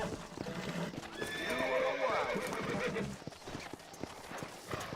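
Horse galloping with repeated clip-clop hoofbeats and a loud neigh in the Western video game Red Dead Redemption, with game music and effects mixed in and some talk over it.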